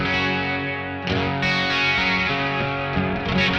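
Electric guitar chords ring out with a shimmering, wavering chorus effect from a Joyo Vision pedal, sustained and fairly loud, with no voices.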